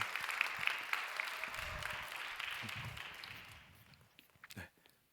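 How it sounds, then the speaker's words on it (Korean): A church congregation at a Sunday young-adult worship service applauding to welcome someone, a broad wash of many hands clapping at moderate distance that fades out after about four seconds, followed by a few stray sounds. "우리 박수로 환영할까요?"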